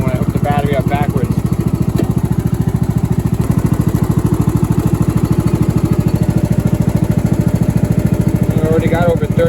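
An old Ariens riding mower that sat for years idles with a steady, close, fast-pulsing engine chug, and someone speaks briefly at the beginning and end.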